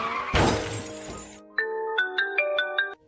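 A car whose brakes have failed slams into a truck in an animated scene: a loud broadband crash with shattering glass and debris, followed by a string of bright, ringing metallic chimes.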